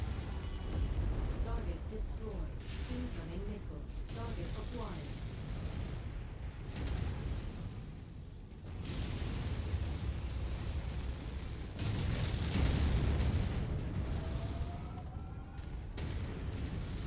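Missile explosions and weapon fire rumble through a mech battle in Mechwarrior 5: Mercenaries, repeated heavy booms and blasts in bursts across the stretch, with radio-style voices talking over the combat at times.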